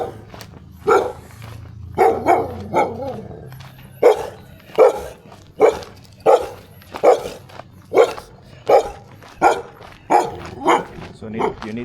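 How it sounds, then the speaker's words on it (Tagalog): Dogs barking repeatedly on an early-morning city street, a steady run of about a dozen loud, evenly spaced barks with some yips, close by, over low street background. "Put a bag between you and the dog."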